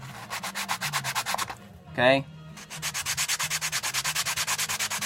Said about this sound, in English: take a sanding block and sand that down a little bit.